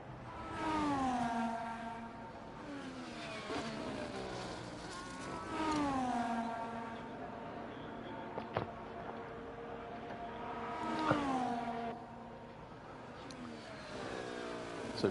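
Formula 1 race car engine on an out lap along the back straight of the Canadian Grand Prix circuit in an F1 video game, a steady high-pitched whine rising and falling with repeated upshifts, alone and fairly faint.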